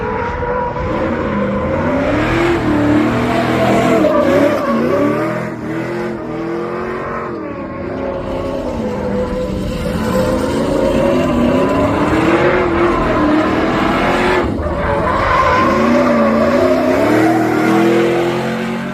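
Cars drift at the SEMA show, engines revving and wailing with shifting pitch alongside squealing tires, loud and continuous throughout as the cars pass and slide.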